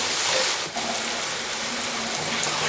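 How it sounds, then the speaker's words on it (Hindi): Water gushes steadily into a pan of spiced masala for mashed potato curry, a continuous close hiss-like pour lasting a few seconds. "थोड़ा सा पानी डालेंगे मसाले को अच्छी तरह पकाने के लिए।"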